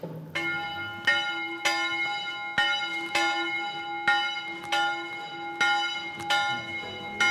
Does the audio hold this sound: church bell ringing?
yes